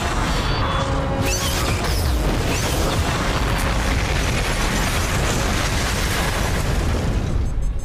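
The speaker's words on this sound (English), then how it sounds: "fires a big honking blast of energy in any direction we want" A large energy weapon blast from the starship Destiny in Stargate Universe, a loud, dense roaring burst that fills the whole stretch with sustained explosive rumble and crackle.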